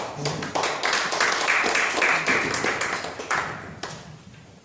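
An audience at a church prayer meeting with a Pyongyang art troupe gives scattered, moderately loud clapping that gradually thins out and fades.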